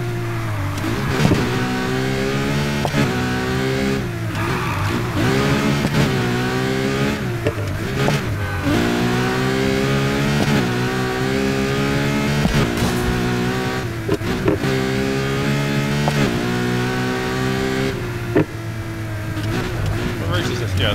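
Racing car engines rev hard in Need for Speed Heat, with repeated rising pitch sweeps and sharp gear shifts over a thick, continuous engine roar. Music or other game sound sits underneath.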